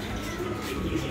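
Pigeons in a bird loft give a soft, low cooing over a brief moment, set against a steady background hum.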